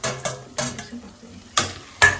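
Egg dish being stirred in a pan, with the utensil scraping and clinking against the pan in a few distinct strokes over a faint sizzle, close and fairly loud, with no talking.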